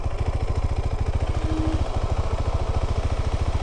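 A KTM 390 Adventure single-cylinder motorcycle engine idles steadily off-road, its close, even low thumping pulses running continuously and loud with no voices.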